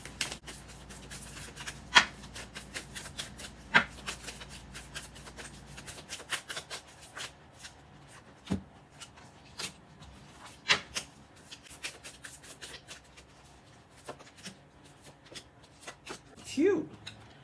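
Tarot cards are shuffled and handled by hand in a quiet room, soft papery riffles and taps coming in small bursts with faint rustling between them.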